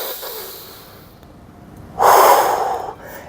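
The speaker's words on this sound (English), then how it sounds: "Take a couple of deep breaths." A person takes deep breaths while holding a stretching pose: a soft, quiet inhale followed by a louder, close, breathy exhale lasting about a second.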